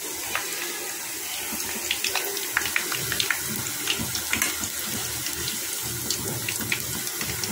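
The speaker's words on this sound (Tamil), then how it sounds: "நல்லா ஒரு பனானா ஸ்லைஸ் பண்ணி ரொம்ப கொதிக்கிற ஆயிலில் போட்டிருக்கேங்க" Slices of red banana deep-fry in very hot oil, a dense, steady sizzle packed with tiny crackling pops, close and continuous throughout.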